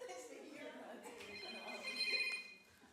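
A mobile phone rings during a council meeting, its electronic tone surfacing midway through and sitting under steady overlapping conversation before fading out.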